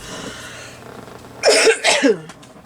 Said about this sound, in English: I seem to have a cough today.